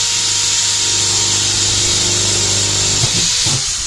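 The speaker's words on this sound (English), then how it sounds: "using our drill in reverse" A power drill running in reverse whirs steadily at close range while drilling holes, its motor holding a constant pitch before a few brief bumps near the end as it bites.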